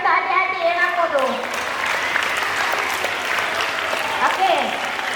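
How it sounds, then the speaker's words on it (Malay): An audience claps for the children at a Quran completion ceremony: a full, lively round of applause, with voices speaking over it at the start and again near the end. "Tepuk tangan sikit untuk adik-adik yang aku tu."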